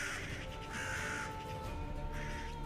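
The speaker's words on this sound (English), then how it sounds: "Almost like they're crows?" Crows cawing in a dark fantasy tabletop game scene set near a crypt, a steady ambient soundscape with harsh calls repeating over a continuous low background drone.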